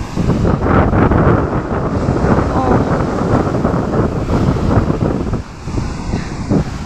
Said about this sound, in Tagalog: grabe, ang laki ng alon